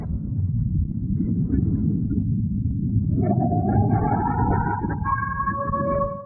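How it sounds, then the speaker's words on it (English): An air raid siren in the port of Tuapse slowly rises over a heavy low rumble, its wailing tones climbing and holding loud and steady in the second half. "the siren finally goes off"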